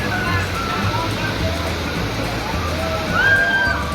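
A waterfall on the Kali Oyo river near Yogyakarta gives a steady, dense rush of falling and splashing water for the whole stretch, with faint crowd voices mixed into the roar.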